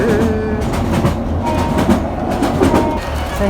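A train pulls into Taynuilt station in Scotland, heard from on board as a loud, steady rumble with rhythmic rail clatter and faint squealing tones from the wheels and brakes.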